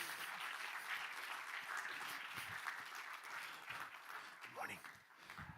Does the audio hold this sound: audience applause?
yes